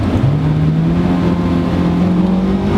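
A Honda S2000 engine revving hard close by, a loud sustained roar that climbs steadily in pitch as it pulls through the revs.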